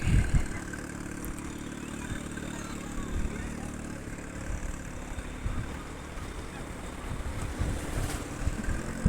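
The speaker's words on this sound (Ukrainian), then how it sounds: "ось рибаки приплили вже" Fishing boats come in from the sea at a Bulgarian coastal town, a low engine rumble beneath steady wind buffeting and wave wash, with faint thumps and occasional knocks close by.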